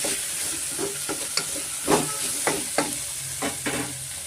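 Mixed vegetables fry in oil for a vegetable bread pulao, a close steady sizzle broken by repeated scraping strokes of a spatula stirring the pan, with no speech.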